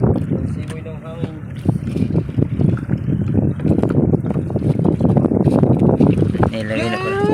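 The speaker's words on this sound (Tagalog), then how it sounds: "Mahangin ang paligid." Strong wind buffets the microphone outdoors on a boat at sea, producing continuous gusty rumbling and thumps while people talk over it throughout.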